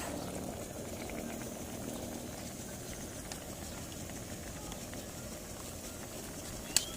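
Chicken curry with coconut milk, curry paste and bamboo shoots bubbling in a pot over a fire outdoors, a steady dense simmering patter that runs throughout with one small sharp click near the end.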